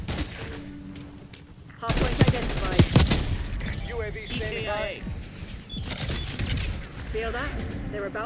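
Shotgun fire in Call of Duty Black Ops 6, sharp bursts of gunfire in clusters mixed with other game effects and voices talking over the action.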